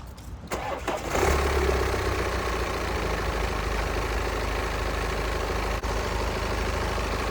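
A 2014 BMW 328d B47 diesel engine starts after a brief click, then settles into a steady, rough idle while warming up, with an even low rumble that continues without change.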